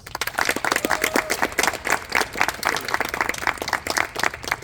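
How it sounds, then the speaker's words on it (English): A round of applause from the audience after a student theatre production, with close, crisp individual claps in a fast irregular patter that holds steady for several seconds without talk. "I think we can give everyone another round of applause."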